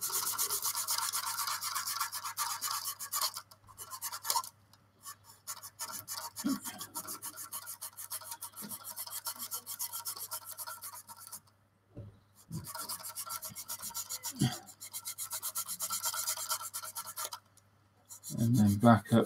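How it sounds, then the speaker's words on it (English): A flexi sander works along the fuselage seam of a 1/24 Airfix Spitfire Mk Vb plastic model, making close, dry rasping strokes in bursts with pauses, pressing harder as it nears the curved front. "we can start pushing down a bit on the flexi sander"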